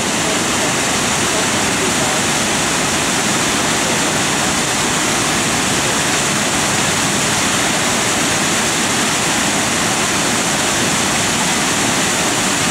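A waterfall where many salmon leap upstream, roaring as a loud, steady, broadband rush of falling water that stays unbroken and close throughout.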